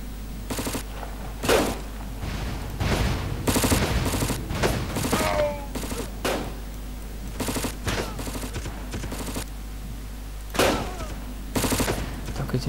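Repeated bursts of automatic gunfire and scattered single shots ring out in the online browser war game Crisis, loud and close, in irregular clusters across the battle.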